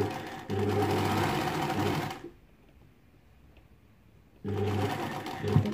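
A sewing machine stitches a zipper onto a djellaba in a loud, close, continuous mechanical rattle, stops for about two seconds of near silence, then starts again.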